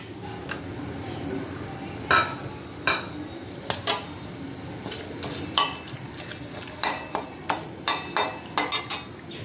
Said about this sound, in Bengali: ওই একই তেলে আমি ফোড়নের জন্য দিয়ে দিচ্ছি তেজপাতা, লবঙ্গ, এই দারচিনি, লবঙ্গ আর 2টো ছোটো এলাচ